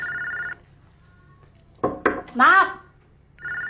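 An indoor telephone bell rings in short bursts at the start and end, with a voice calling out loudly in between the rings.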